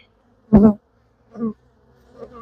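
Honey bees buzz close by during a rainy-day hive inspection: three short, separate buzzing passes, the first loud and near, the later two fainter as they drift off, with no talk.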